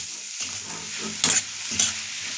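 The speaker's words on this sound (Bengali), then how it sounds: "নুন আর হলুদ পরিমাণ মতো হলুদটা দিয়ে ভালো করে একটু" A spatula stirs prawns with salt and turmeric as they fry in a pan, a soft steady sizzle broken by two louder scraping stirs near the end, close and clear with no voices.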